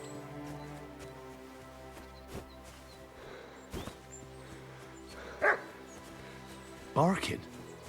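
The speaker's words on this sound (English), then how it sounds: "Barking." A dog in Kingdom Come: Deliverance II gives a couple of short, separate barks over quiet background music and ambience, spaced a second or so apart.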